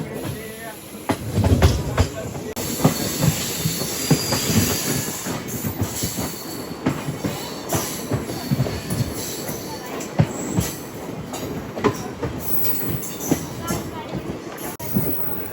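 A MEMU express train runs the Nellore–Vijayawada line near Tettu in strong crosswinds, its steady rolling rumble full of close, irregular wheel clacks and rattles that carry on loudly for the whole stretch.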